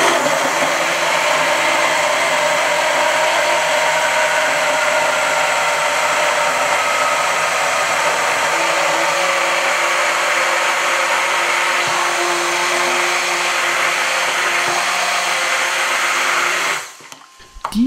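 An electric blender purees pepper sauce, a loud continuous whirring motor drone held steady for most of the run before cutting off abruptly near the end with a few clattering knocks, no talking.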